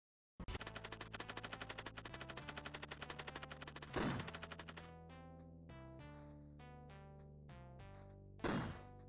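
Rapid automatic gunfire in the first-person shooter STRAFE, loud sustained bursts of closely spaced shots with brief pauses and a couple of heavier blasts, no talking.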